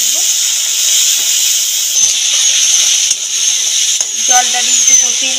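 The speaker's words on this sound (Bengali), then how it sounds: "হলুদ দিয়ে দিলাম, অল্প একটু জল দিয়ে কষাতে থাকবো।" Spice paste with turmeric and a splash of water sizzles loudly and steadily in a pan for a Bengali dal and egg curry, a close, constant hiss with faint clatter near the end.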